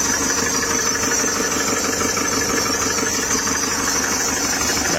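A Kia Carnival diesel engine, running low on oil after assembly, idles steadily with a continuous close mechanical clatter and hum, no breaks and no voices.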